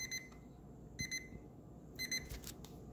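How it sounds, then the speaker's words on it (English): An ORIA wireless fridge thermometer alarm sounds in three short bursts of high electronic beeps, roughly one second apart, near and clear over a low background hum. "so I can turn the alarm off and then wait for this to cool down"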